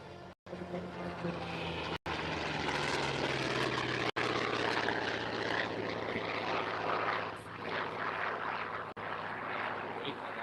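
A vintage propeller aircraft with a 2,300-horsepower radial engine growls low and steady at an airshow at McMinnville Airport, Oregon, a continuous droning roar with a slowly shifting pitch, broken by a few brief cuts.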